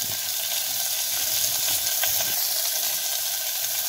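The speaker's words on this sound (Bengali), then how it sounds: "ফুলকপি আর আলুটা একটুখানি অল্প করে ভেজে নিতে হবে।" Cauliflower and potato pieces fry in hot oil in a single pot for vegetable tehri rice, a steady, close, continuous sizzle with faint stirring and no talk.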